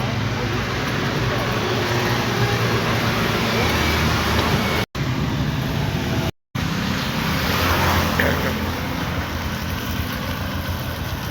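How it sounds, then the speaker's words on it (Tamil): A vehicle drives along a road, and a loud, constant broadband rumble of tyres and engine fills the whole stretch, broken only by two very brief dropouts. Voices may be faintly present under the noise. "வண்டி போயிட்டுருக்கு."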